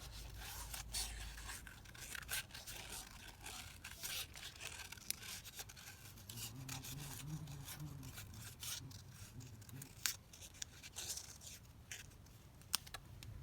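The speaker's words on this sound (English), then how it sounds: "I'm just going to cut this one out." A piece for a wardrobe pocket is cut out at a craft workbench, making faint, close scratchy cutting and rubbing strokes in an irregular series, with no voices.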